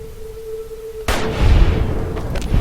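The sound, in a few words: sniper rifle gunshots in video game Fallout New Vegas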